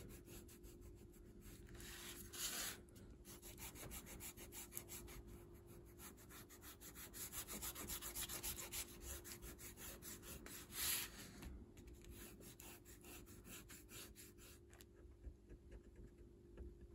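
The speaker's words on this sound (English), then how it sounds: "I'll use my detail eraser to erase up close by so that I don't accidentally erase the seashell" A detail eraser rubs back and forth on drawing paper in quick, rhythmic faint strokes near a sketched seashell, close and soft with a few brief pauses.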